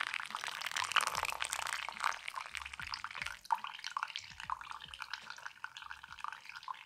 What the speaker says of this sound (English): We're gonna slowly pour for a little bit longer. You're just gonna go in circles trying to get that nice and mixed